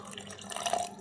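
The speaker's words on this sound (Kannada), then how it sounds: "ಸ್ವಲ್ಪ ನೀರು ಹಾಕಿ" Water is poured into a container of cream for a mango holige seekarane preparation, giving a short, fairly quiet splash and trickle lasting about a second.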